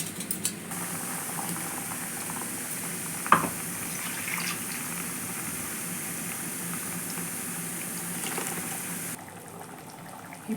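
A pot of bottle gourd and chickpea masala curry bubbling as it thickens, a steady close simmer with faint intermittent pops, no voices.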